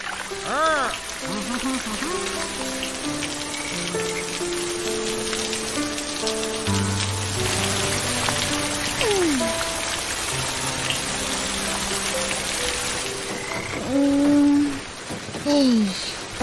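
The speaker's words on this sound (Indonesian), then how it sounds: "Boleh pula hujan lebat tak berhenti-henti." Heavy, steady rain falls without a break in an animated kids' series scene, a continuous hiss beneath background music and cartoon voices talking.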